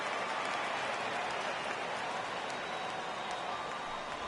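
Steady heavy rain pours down on a baseball field in MLB 18, a dense, even hiss that holds at one level throughout with no voices or other sounds over it.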